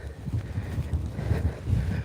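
Gusty wind buffets the microphone on a rainy morning dog walk, producing low, uneven rumbling bursts that rise and fall close to the recorder.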